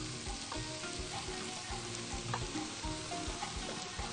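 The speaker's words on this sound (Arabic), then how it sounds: "وهبدا ان انا اقلبه واشوحه كويس لحد ما يشرب من بعض" Freekeh sautéing in a pan with onion, garlic and hot pepper while being stirred, a continuous close sizzle with rhythmic scraping and stirring strokes, no talk.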